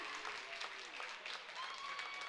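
A home crowd at a collegiate gymnastics meet between A&T, Limestone and Presbyterian applauds steadily, with fairly distant clapping and cheering that keeps a constant level throughout.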